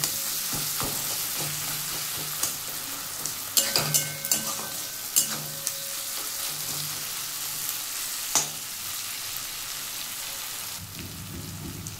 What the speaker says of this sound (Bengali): আর টমেটোগুলো একটু আমি খুন্তি দিয়ে একটু চেটে দিচ্ছি